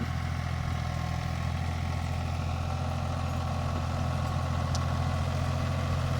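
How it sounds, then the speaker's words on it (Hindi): Tractor engine running steadily as it makes a second pass along a raised eggplant field bed, a continuous low diesel drone with a constant rumble and no speech. "दूसरा चक्कर लेके आ रहा है ट्रैक्टर उसी बेड के ऊपर"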